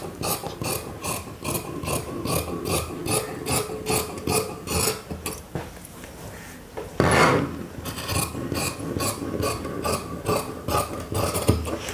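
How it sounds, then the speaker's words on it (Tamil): Scissors cut through blouse fabric in rapid, rhythmic rasping strokes up close, pausing briefly before a louder rustle and then resuming the steady snipping. "இப்போ இது வந்து நம்ம தனியாக கட் பண்ணி எடுத்துக்கலாம்."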